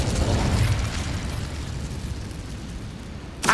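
Incendio fire spell blast in Hogwarts Legacy, a loud rushing whoosh and roar of flame that swells at the start, fades into a steady burning rumble, then ends with a sharp bright burst; no talking.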